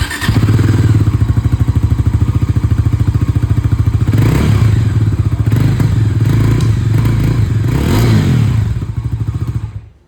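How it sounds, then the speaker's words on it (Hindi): Bajaj Dominar 400 motorcycle with its dual-barrel exhaust runs loud and close, a deep, throbbing engine note with a couple of short revs before it cuts off abruptly at the end. "डोमिनार 400 की डुअल बैरल एग्जॉस्ट के साथ आ रही है इसकी भी आवाज़ सुना दूँ।"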